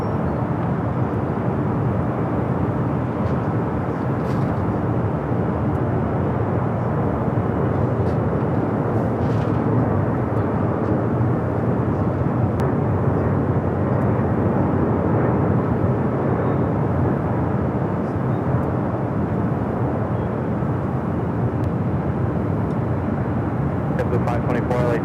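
An American Airlines Dreamliner airliner rolling along the runway at LAX, a broad continuous jet roar holding steady throughout, loud and sustained with no clear pauses.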